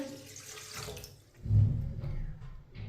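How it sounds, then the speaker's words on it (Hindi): A glass of water is poured into a cooking pot for masoor dal, a brief gushing splash that swells midway and then trails off into a softer trickle. "ये मैंने 1 गिलास पानी डाला है।"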